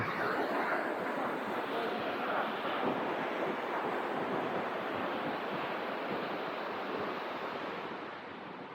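Broadband rushing water flows steadily and close by, a dense, continuous wash at a river with a pool-like stretch, fading slightly at the end with no voices.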